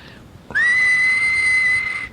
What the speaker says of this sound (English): The whistle sounded.